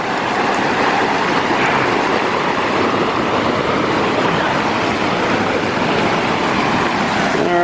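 Cold river water rushing in a strong current, a dense continuous roar that is loud and close, with no voices.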